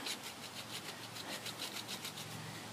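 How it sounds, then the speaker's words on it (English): The back of a Mora Classic No. 1 knife scrapes along a ferro rod, a rapid, rhythmic series of close, faint rasping strokes repeating steadily with no talk. "you can do this and just scrape the back of your knife, and you'll start getting some stuff there"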